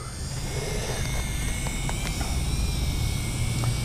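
A WLtoys Q353 amphibious toy drone runs its propellers while sitting on water, a steady high whine with engine-like drone and faint splashy ticks, moderately loud and continuous without talk.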